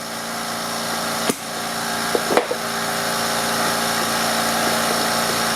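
California Air Tools air compressor pumping up, a steady motor drone with a few sharp clicks and knocks near the middle, the running noise gradually building in level.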